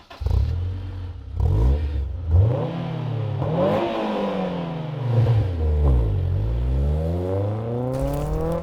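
A sports car with a cat-back exhaust revs repeatedly, its exhaust note climbing and dropping in pitch in close, loud, throaty bursts.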